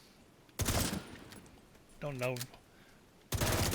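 Gunfire in The Division 2 comes as two loud, close bursts at the start and end, with a short spoken phrase between them.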